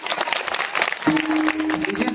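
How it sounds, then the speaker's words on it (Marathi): An audience at a devotional sermon claps in a short burst of loud, dense applause, which thins after about a second as a sustained tone rises beneath it. "एकदा जोरदार टाळ्या वाजवा."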